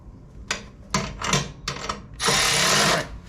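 A power drill drives bolts into the top bracket plates of a 48-inch Hustler Trimstar walk-behind mower. Several short, close bursts are followed by one longer steady whir.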